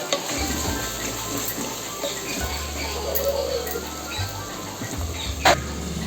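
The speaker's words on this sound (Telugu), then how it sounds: "వేసి ఇది కూడా బాగా కలుపుకోవాలి" Chicken pulao mixture is stirred in a pan, a steady low scraping and gentle sizzle running throughout with one brief louder clink near the end, no voices.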